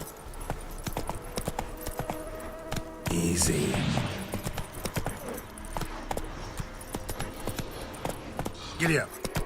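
Horse hooves clip-clop at a steady trot in The Witcher 3 video game, close and rhythmic, with a brief burst of louder clatter and game sounds over the top and talking mixed in.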